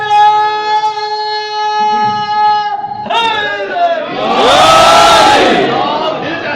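A crowd at a religious gathering chants slogans in unison, the loud collective roar swelling after a single sustained voice leads the call.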